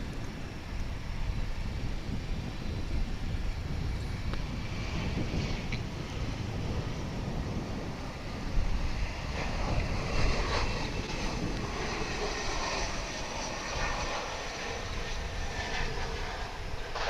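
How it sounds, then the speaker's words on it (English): American Eagle regional airliner arriving at Dallas/Fort Worth International Airport, a steady roaring engine drone mixed with wind buffeting, loud and sustained with a swell toward the middle. "we're going to be seeing the arrival of American Eagle Flight 3847 coming in from Tallahassee in Florida"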